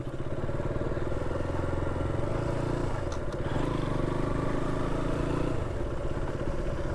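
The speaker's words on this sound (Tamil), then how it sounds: "அட்வென்ச்சர் பைக் மாதிரி அது இருந்துச்சு." Motorcycle, an adventure-style bike, rumbling steadily over a rough road in Vattavada, Kerala, with a constant mid-low engine drone and faint rattling clatter close by throughout.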